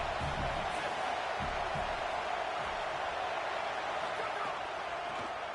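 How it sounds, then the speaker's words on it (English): A steady stadium crowd roar fills a college football video game, Texas State at Texas A&M, holding constant throughout, with a voice talking faintly underneath. "this crowd is turning it up a notch"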